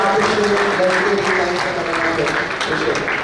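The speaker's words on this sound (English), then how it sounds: "So big round of applause for our sponsors" Banquet audience applauds its sponsors at an award night, a dense steady wash of clapping held loud throughout, with some crowd noise and voices mixed in.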